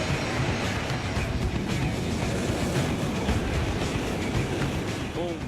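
A Shinkansen bullet train in Japan rushes past with a dense, continuous roaring whoosh of broadband rail noise that stays loud throughout, with no clear voices.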